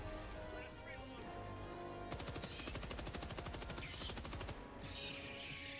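Friendly fire in Helldivers 2 erupts as a loud, rapid automatic burst of evenly spaced shots lasting a few seconds, set between quieter stretches of in-game noise.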